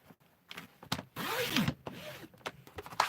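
A paper trimmer slicing through card at 10 centimetres, a short scraping glide of the blade lasting about a second amid quiet handling clicks and rustles, no talk.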